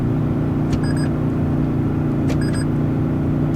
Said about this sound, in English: Let's downshift.